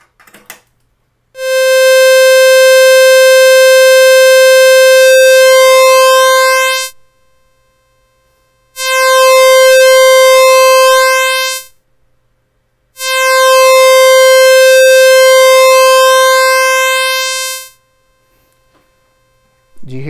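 Three loud, buzzy tones from a Q106 synthesizer oscillator sound one after another with short gaps, each fading out rather than cutting off sharply.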